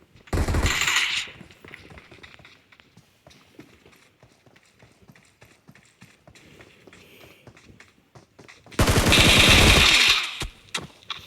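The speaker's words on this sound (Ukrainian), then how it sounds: "по мені стріляють" Two loud bursts of rapid automatic gunfire in a mobile video game, one at the start and one near the end, with quiet clicks and faint footsteps in between.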